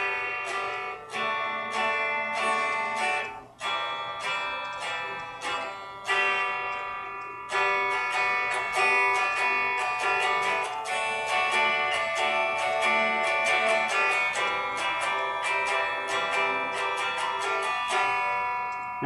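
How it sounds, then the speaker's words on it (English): A guitar strums back and forth through three chords in a steady rhythm, bright and close, with short breaks between strums early on and continuous strumming after that, no voices. "Now it's just playing 3 chords, strumming back and forth on a guitar"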